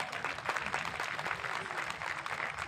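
An audience at a Hindi poetry recital (kavi sammelan) in Kota claps together in a steady, dense patter, fairly faint and heard alone without speech.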